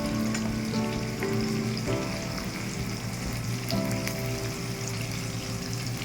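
Chopped onion fries in oil for chicken curry, a loud steady sizzle with scattered pops and crackles and a low hum beneath, no voices.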